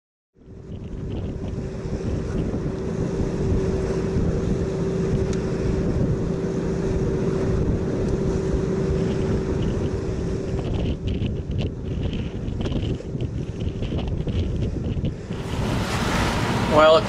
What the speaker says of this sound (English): the wind is going around to the north as we speak